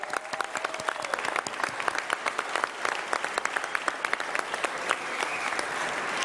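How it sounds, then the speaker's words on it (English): A crowd applauds at a 2014 election night event, dense steady clapping with sharp individual claps standing out, sustained and fairly loud throughout. "So I want to just give you a round of applause"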